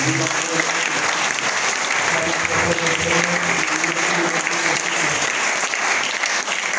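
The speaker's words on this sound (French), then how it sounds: "Acclamons très fort le Seigneur." Church congregation applauding loudly and steadily throughout, a dense sustained clapping crowd with some voices mixed in, during a worship service.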